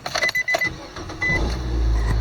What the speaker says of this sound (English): crank the car, match the brakes a couple times until you get brake pressure.